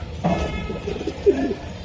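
Racing pigeons, grizzle cocks and hens, coo softly in a loft, a few low murmuring calls rising and falling over about two seconds, with one louder coo near the end.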